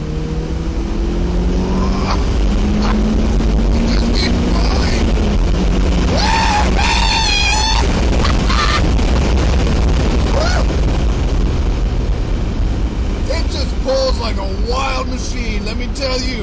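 A turbocharged car pulling hard at 22.6 PSI boost through the gears, with loud rising engine tones, gear changes and heavy rumble, while a person talks over part of it.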